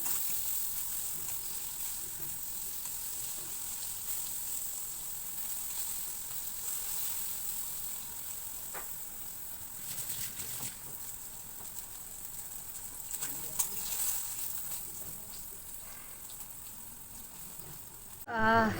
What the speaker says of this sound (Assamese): এতিয়া মই বেঙেনাখিনি ভাজি লওঁ